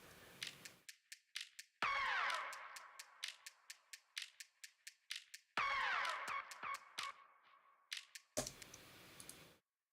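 Rendered music loops processed with an Echo Boy echo effect: sharp clicky percussive hits with swooping tonal sweeps and repeating echoes, two similar phrases in a row, ending with a brief noisy burst, no talking.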